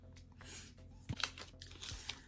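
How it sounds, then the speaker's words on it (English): A knife slicing down the side of a cardboard card package, soft scraping and crunchy cutting sounds with a few sharper clicks, quiet and close. "I'm just going to use my knife to cut down the side"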